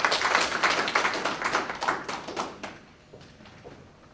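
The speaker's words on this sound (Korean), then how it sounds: "다시 한번 큰 박수 부탁드립니다" An audience at a food and drug safety forum claps after a presentation, a dense round of applause that starts loud, then thins into scattered claps and fades toward the end.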